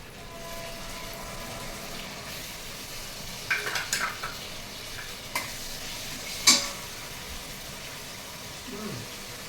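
Ginger, garlic and coriander paste frying with onions in a pan, a low hiss with a few sharp scraping stirs and clinks of a utensil against the pan, otherwise fairly quiet.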